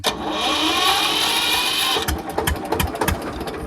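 A tractor engine runs with a loud, steady drone for about two seconds, then gives way to scattered knocks and clicks.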